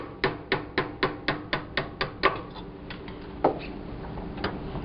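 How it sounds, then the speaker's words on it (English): A hammer taps a 1/8 inch drift punch to drive roll pins out of a metal picture frame, giving about nine quick, even, close metallic strikes followed by two scattered, softer hits. "By using a little bit of alcohol, a 1/8 inch drift punch, and a hammer, you can drive the roll pins right out of the picture frame."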